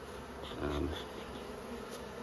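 Honey bees buzz around an open beehive brood box during spring hive management, a steady low drone of many bees close by, rising briefly when one passes near, with no talking.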